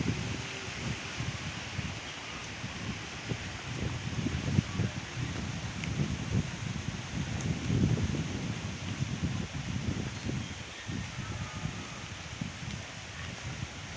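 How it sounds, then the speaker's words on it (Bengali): Wind blows steadily past a pond on a rainy day after the rain has eased, making a soft, continuous rustle with gentle gusts and no voices. "এখন শুধু বাতাস বইছে"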